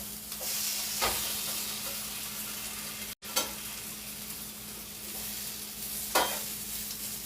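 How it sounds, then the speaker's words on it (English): Onions grilling on a hot surface for a jumbo burger, giving a steady close sizzle and hiss with a few brief scraping stir sounds and one short dropout partway through. "I like the onions grilled when they're on my burger"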